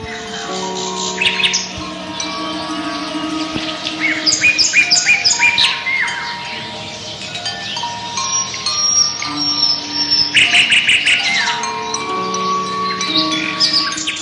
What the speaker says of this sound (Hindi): गर्मियों और मानसून के मौसम में स्वदेशी पक्षियों के सुखदायी कलरव को देखा और सुना